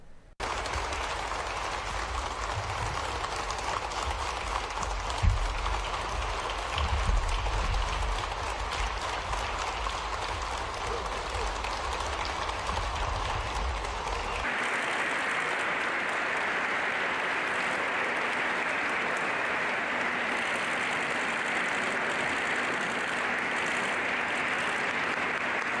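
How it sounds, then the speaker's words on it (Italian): Sustained applause from a large assembly greets outgoing Italian prime ministers, dense clapping for about half the time before changing to a brighter, more uniform wash of clapping that runs steadily to the end. "sentiamo cosa è successo a livello di applausi"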